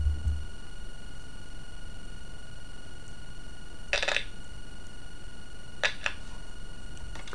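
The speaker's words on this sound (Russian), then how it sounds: "по характерному треску можно убедиться, что катушка динамика исправна" Short static crackles from an old computer speaker head being tested on its coil, a few brief scratchy bursts over steady background hiss and faint hum, close and fairly quiet.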